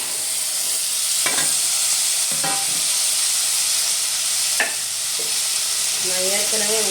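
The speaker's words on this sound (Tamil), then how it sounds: "வெங்காயம் நல்லா வதங்கிடுச்சு" Onions frying in a pan with ginger-garlic paste for a banana stem koottu, a constant bright sizzle with a few sharp scraping stirs of a spoon against the pan.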